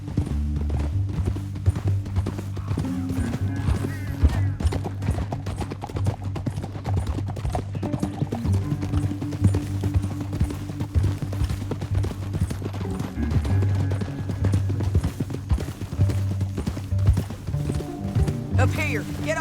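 Horse hooves clip-clop steadily through a Red Dead Redemption 2 ride, a continuous mid-level gait under a bed of game music, with occasional character dialogue layered over it.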